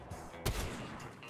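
A single loud, sharp sniper rifle shot in the video game Fortnite, a sudden blast with a booming low tail, set against a steady hum of game ambience.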